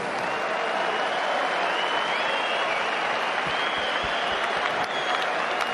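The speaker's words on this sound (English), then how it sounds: "we need to get a nice round of applause out here for both of these fighters." Boxing crowd applauding both fighters after a bout, a dense, loud, continuous wash of clapping and crowd noise throughout.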